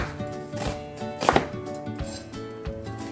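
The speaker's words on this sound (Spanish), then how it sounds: "ahora vamos a picar nuestra cebolla." Onion chopped on a cutting board, a close series of sharp knife taps landing in an irregular quick rhythm, fairly quiet and with no talking.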